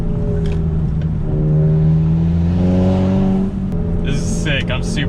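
A tuned VW GTI with chassis bracing revs, its exhaust rising to a loud, sustained drone that drops off with a brief burble. Voices can be heard near the end.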